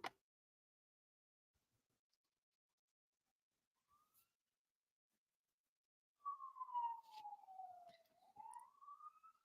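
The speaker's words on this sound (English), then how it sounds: "Sorry if you hear the police sirens outside." A single police siren wails from about six seconds onward, a clear sweeping tone falling then rising, fairly distant outside, after mostly quiet with a few faint knocks.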